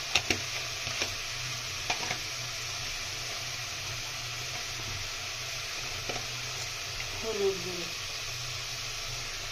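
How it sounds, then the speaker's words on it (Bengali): Ground cumin, coriander and turmeric fry and get stirred in a pan for a cauliflower and duck egg curry, giving a low steady sizzle with a few soft scrapes and clinks. "মশলাটা ভালোভাবে কষিয়ে নাও"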